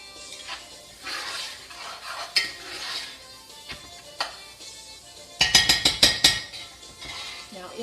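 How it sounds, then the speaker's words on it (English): A Cajun-style okra dish being stirred in a pot over a medium flame, with a spoon scraping and knocking against the pot in irregular strokes, then a quick cluster of sharp metallic clinks near the end over a faint steady background. "Stir this for a little bit."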